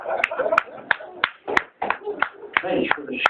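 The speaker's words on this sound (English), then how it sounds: "Thanks for the scattered applause" Sparse, uneven claps from a small comedy club crowd at a live stand-up show, a few sharp isolated hand slaps rising over a murmur of voices.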